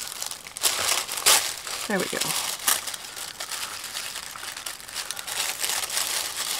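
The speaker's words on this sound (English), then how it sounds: "I don't want to rip all the tissue paper." Thin tissue paper crinkles and rustles close by in short bursts as it is unwrapped, with a brief tearing sound, while someone speaks softly over it.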